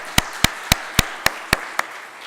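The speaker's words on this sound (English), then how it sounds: "now let's clap for the students" Evenly paced claps ring out as an audience applauds students at a mayor's Earth Day press conference. Seven sharp, loud claps land in a steady rhythm with no talking.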